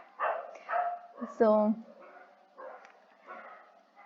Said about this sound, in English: Please excuse the doggies, they go crazy at night.